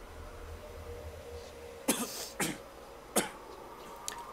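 Coughing and choking from a character in the video game One Dreamer: three or four sharp, close coughing bursts with short gaps between them, over a low background hum.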